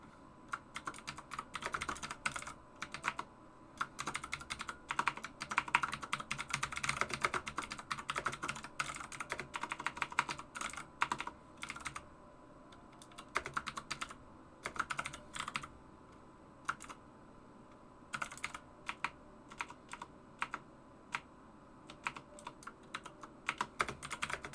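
A computer keyboard clicks away in fast, uneven bursts of typing with short pauses, crisp and close, with no voices.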